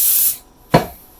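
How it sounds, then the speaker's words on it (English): Cooking spray hisses out of a can onto a paper towel in a short, close burst of about a third of a second, then stops. A brief rubbing thump follows shortly after. "put some of our cooking spray on a paper towel"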